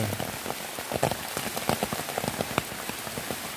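Steady rain patters and splashes on surfaces close by, a continuous dense hiss with scattered louder drops.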